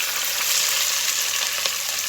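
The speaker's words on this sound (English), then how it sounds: "So now we're going to let the vegetables fry until they're translucent" Diced red pepper and green onions frying in canola oil, a loud, close, continuous hiss and crackle that stays even from start to finish, with no talking.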